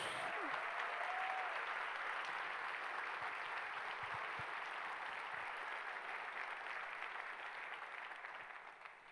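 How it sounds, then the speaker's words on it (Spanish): A church congregation applauds during a sermon, a steady dense wash of clapping that holds loud throughout and slowly thins toward the end. "Llegó el momento de aplaudir a Jesús."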